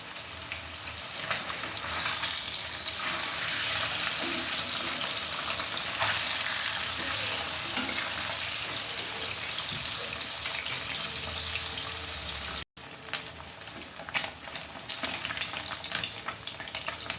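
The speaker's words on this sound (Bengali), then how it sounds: "মাছ ভাজাটা আমি বসিয়ে দিলাম খুব কড়া করে ভাজতো না একটু হালকা করে ভেজে নেবেন" Rohu fish pieces fry in a pan with a steady, loud sizzle that runs the whole time, with a short break near the end and no talking.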